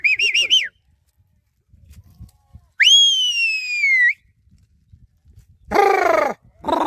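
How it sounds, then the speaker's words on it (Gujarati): A goat herder's summoning whistle rings out in loud, clear bursts: a short warbling trill, then a long sliding whistle, then a final trilling call, separated by near silence with faint background rustle. "કેવી રીતની સિસોટી મારે વામ કરે એ હું તમને આગળ સંભળાવું"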